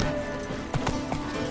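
Horse hooves clip-clopping at a steady gait in The Witcher III: Wild Hunt, sharp rhythmic thuds over a busy game ambience, with a brief bit of talk mixed in.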